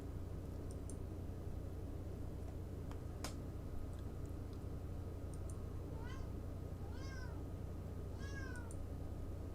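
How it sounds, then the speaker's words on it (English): A pet cat cries several times aboard a small Mooney airplane in flight, short plaintive meows rising over the steady drone of the cabin, with a few faint clicks. "And my cat's going to keep crying,"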